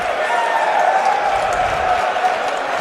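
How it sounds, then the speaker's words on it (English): An esports arena crowd cheers and applauds after a Dota 2 grand final game at the Boston Major, a steady, distant roar of many voices filling the hall. "I think the crowd standing up, everyone on their feet says it all really here"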